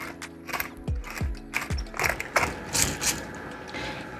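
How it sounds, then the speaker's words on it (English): Pepper grinder cranked over filet steaks, a series of ratcheting, crunchy grinding twists in steady rhythm, close and clear with no talking. "Then I grind a little pepper on there."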